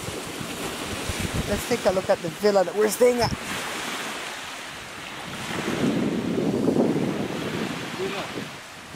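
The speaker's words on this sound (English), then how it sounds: "down on the beach in Placencia enjoying the waves" Ocean waves breaking on the beach at Placencia, Belize, under wind buffeting the microphone. A person talks briefly at first, then a broad surf surge swells and fades, moderately loud and close.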